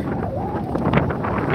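Wind buffeting the microphone on a fishing pier in Florida, a loud steady rumbling gust that persists throughout with no talking.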